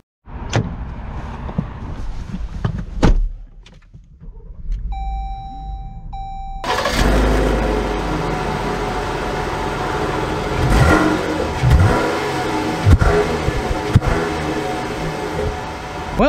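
A Jeep Grand Cherokee L Altitude, with door and cabin clicks and a brief chime, then the engine starts and settles into a steady drone as the SUV pulls away, with a few louder bumps along the way.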